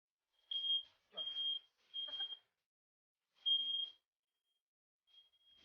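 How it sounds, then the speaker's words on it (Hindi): A smoke alarm, set off by barbecue smoke, gives a run of sharp high-pitched beeps, four in quick succession, then a pause and another, with a faint last one trailing off. "इतने जोश से बारबेक्यू किया कि घर का अलार्म सिस्टम ओपन हो गया।"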